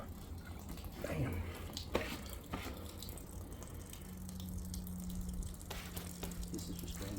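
Water drains through household pipes upstairs after the supply is shut off at the meter, a faint continuous trickle and gurgle with small drips in a quiet room.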